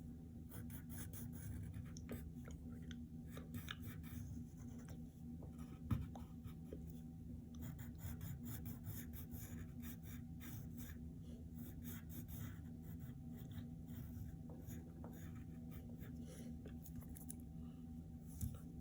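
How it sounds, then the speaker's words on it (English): A pencil sketches Donatello's bow staff on paper, producing a faint, continuous scratchy stroking over low background hum, steady throughout with no talking. "And then you can continue on with drawing the rest of his staff, which all goes like this."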